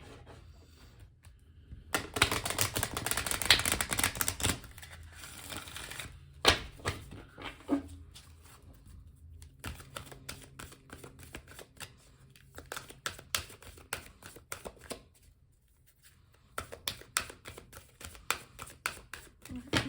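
Tarot cards riffling and rubbing in repeated bursts, soft papery shuffling with pauses between, close up and fairly quiet.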